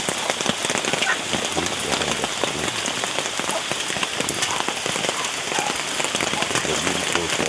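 Heavy rain pours steadily over a garden of bottle gourd plants, a dense, continuous hiss of drops striking surfaces that stays loud and even from start to finish, with no voices.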